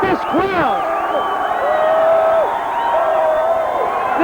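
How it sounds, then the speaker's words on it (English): A dense crowd at a South Philly World Series block party erupts after the final out, with loud sustained cheering, whoops and rising shouts layered together, and voices talking within the din. "take a look at this crowd. This was the scene as it erupted"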